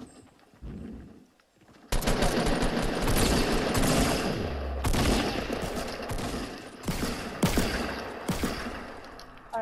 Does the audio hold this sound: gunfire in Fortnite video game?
yes